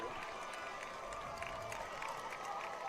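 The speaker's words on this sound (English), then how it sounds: "Everybody's cheering and holding their breath" A high school football crowd cheers and roars steadily in a stadium during a tense kick attempt, a broad sustained wash of voices with scattered shouts and whistles.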